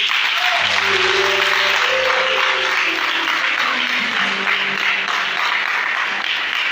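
A church congregation applauds and cheers to praise God during a sermon, with steady dense clapping throughout and sustained music tones beneath the crowd noise.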